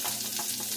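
Garlic frying in a pan for vegetable pancit: a brief, dense, hissing sizzle, loud and close, with no talking.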